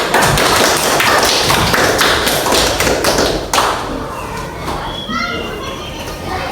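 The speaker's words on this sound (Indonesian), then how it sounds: "Tepuk tangan dulu untuk Ara yang telah" Elementary schoolchildren in a sixth-grade civics class clap for a classmate, a loud dense burst of hand claps and thumps that fades after a few seconds, with children's voices chattering underneath.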